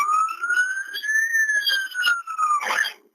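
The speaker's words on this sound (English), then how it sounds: "Ambulance has come now" An ambulance siren wails on the M5 motorway, a single rising and falling tone sounding fairly close and loud, ending in a short burst of noise.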